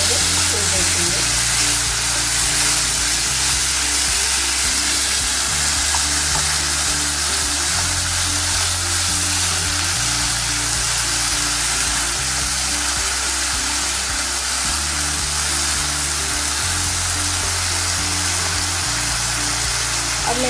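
Chopped capsicum and green chili fry in a hot pan with a loud, steady sizzle that continues without a break, under a repeating low background hum.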